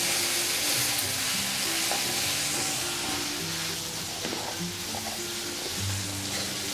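Chopped onions fry steadily in a pan of oil and cumin for a Telangana-style spicy mutton boti fry, giving a constant close sizzle with faint stirring and no talk.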